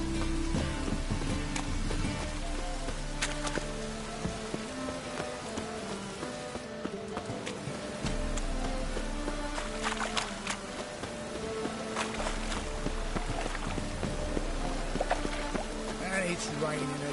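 Steady rain patters down in The Witcher 3 on PS4, a continuous wash of drops heard under game music and voices for the whole stretch.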